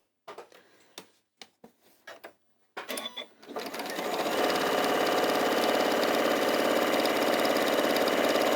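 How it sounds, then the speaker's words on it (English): A sewing machine stitching down each side of a quilt starts after a few brief clicks and taps, then runs at a steady, even whir close by for several seconds. "we're going to just sew down each side"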